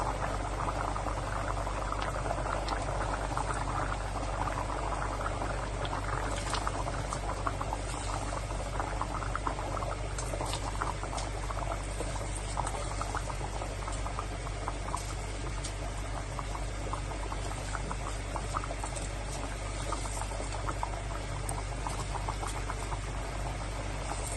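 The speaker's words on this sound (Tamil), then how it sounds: "நல்லா கொதிச்சிருச்சு. கொதி வந்த பிறகு ரைஸ்" A pot of water at a steady rolling boil for lamb biryani rice, with continuous bubbling and a dense, even hiss close by, holding level throughout with no voices.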